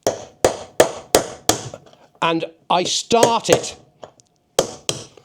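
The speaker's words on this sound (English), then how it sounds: "what I normally do is use a chisel, a steel chisel, and a hammer" A hammer strikes a steel chisel against a washing machine pulley wheel in sharp, loud, evenly spaced metallic blows, five at first and a couple more near the end, with someone talking briefly in between.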